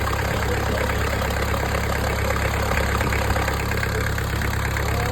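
A Kubota V1305 four-cylinder engine of 28 horsepower idles steadily and loudly nearby, a continuous even rumble with no voices over it.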